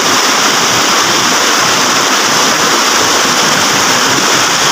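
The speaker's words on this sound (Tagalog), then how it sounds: "Running water." The Taludtod River in Majayjay, Laguna rushes past in a steady, loud, unbroken roar of running water, with no voices over it.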